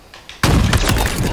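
A sniper rifle shot in the Halo video game: a sudden loud blast that stays dense and sustained, backed by continuing game sound, with no talking over it.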